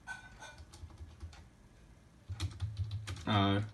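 Keys clatter on a computer keyboard as code is typed, a quick irregular run of light clicks with a faint voice briefly underneath.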